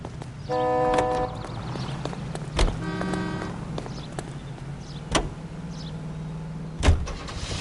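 A car in L.A. Noire idles and drives with a steady low engine drone, broken by tonal horn-like notes early on and several sharp thumps.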